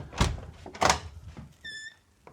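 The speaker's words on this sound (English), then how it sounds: "Let's see what the door sounds like" A door is tested as it opens: two heavy thunks close together, a brief high tonal squeak, then a faint final knock, with no talking over it.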